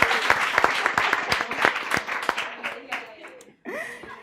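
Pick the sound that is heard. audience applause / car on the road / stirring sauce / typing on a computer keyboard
audience applause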